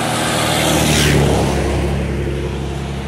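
A four-door Ford Del Rey Ghia driving on a long road trip, its engine a loud, steady drone with rushing road and wind noise throughout, swelling slightly midway.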